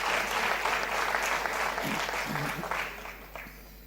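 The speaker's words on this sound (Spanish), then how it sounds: "vamos a recibir a Noemí también con un aplauso para que se sienta contenta también" A church congregation applauds during a service, dense steady clapping filling the room and continuing loudly before tapering off slightly toward the end.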